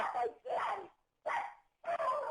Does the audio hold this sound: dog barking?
yes